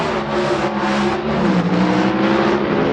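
Vintage drag racing cars, a Superfly Mustang and a four-door Ford Maverick, launch at a 1975 world finals strip, engines roaring loud and steady with rising revs, one car trailing smoke.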